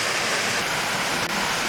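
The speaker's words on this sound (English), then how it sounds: "And you got a waterfall." A woodland waterfall produces a steady, full rushing roar of falling water with no breaks, loud and close throughout.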